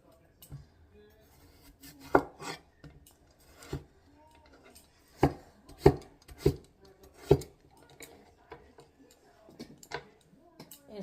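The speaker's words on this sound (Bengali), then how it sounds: "একটু আলু কাটবো, গাজর কাটবো।" A knife chops potatoes and carrots on a board in a home kitchen, giving sparse, irregular sharp cuts close by with quiet gaps between them and no talk.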